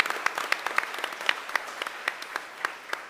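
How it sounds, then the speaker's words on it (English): An audience at a school board meeting gives a teacher a round of applause, a moderately sized crowd clapping steadily with sharp individual claps standing out. "So give her a big round of applause for that"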